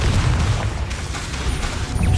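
A Confringo fire spell blast in the video game Hogwarts Legacy, a loud dense booming burst with rumbling, crackling debris that fills the moment, dominating without voices.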